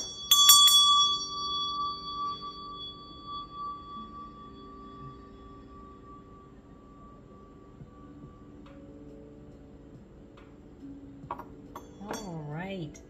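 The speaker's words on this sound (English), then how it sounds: "I am getting ready to ring my meditation bell" A meditation bell is struck once, loud and clear, then its bright tone rings out and slowly fades over several seconds; a voice briefly rises near the end.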